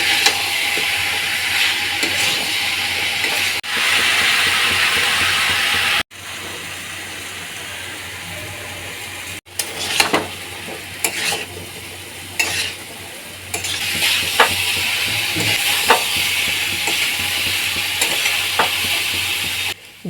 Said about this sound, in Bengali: তাই বেশ কিছুক্ষণ ধরে সবজিগুলো নাড়াচাড়া করতে হবে